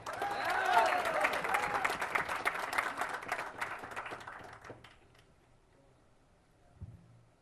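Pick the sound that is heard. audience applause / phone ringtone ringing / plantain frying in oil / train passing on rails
audience applause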